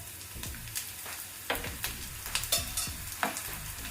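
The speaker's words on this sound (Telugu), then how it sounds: "ఇప్పుడు ఈ కాకరకాయలు ఇందులో వేసుకొని వేయించుకోవాలి" Bitter gourd pieces fry in hot oil in a pan for a bitter gourd garlic chilli dish, a steady close sizzle broken by several sharp scrapes and clinks as the pieces are stirred.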